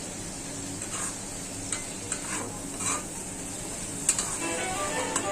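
Spice paste of ginger, garlic, turmeric, chili powder, salt and a little tomato, with water added, frying in a pan: a steady close sizzle with scattered stirring scrapes and ticks.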